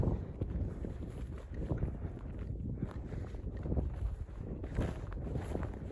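Gusty wind on an open Cheviot hillside buffets the microphone with loud, rumbling low-pitched rushes that rise and fall over several seconds.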